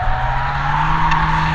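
A Singer-reimagined Porsche 911 Turbo with a flat-six engine sliding sideways, a steady loud engine drone with a hint of tire squeal throughout a short close burst.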